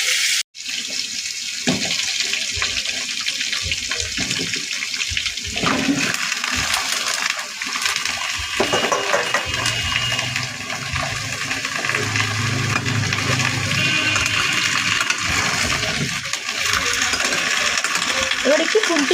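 Pumpkin, potato and papaya tipped into hot oil tempered with black cumin and dried red chilli, giving a steady, loud broadband sizzle that runs throughout with stirring clatter and scraping mixed in.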